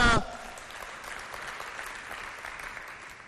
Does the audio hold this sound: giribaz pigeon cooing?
no